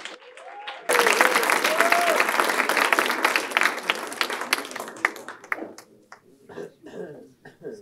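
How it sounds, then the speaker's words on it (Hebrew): Audience applause for poet Eitan Weisel at a poetry evening, bursting in loudly after a brief voice and fading out over several seconds, with a few scattered claps trailing at the end. "ומחאו כפיים לכבודו של איתן ויזל"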